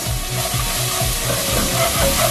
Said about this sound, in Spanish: voy a sofreír aproximadamente unos 10 segundos